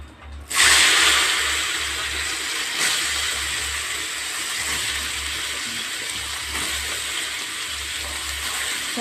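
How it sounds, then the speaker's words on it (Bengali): Taro stolons (kochur loti) dropped into hot oil with a little turmeric, giving a sudden loud, steady hissing sizzle that carries on evenly, close up, with no talk. "এবার কচুর লতিগুলো দেবে ভাজার জন্য"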